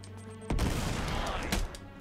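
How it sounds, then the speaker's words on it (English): A grenade blast in Uncharted 3 bursts suddenly and loudly, a broad rumbling boom that lingers about a second before cutting off, heard alone without talk. "Grenade!"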